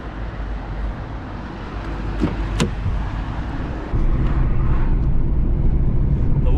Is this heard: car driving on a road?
yes